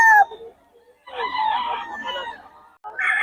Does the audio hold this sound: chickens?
yes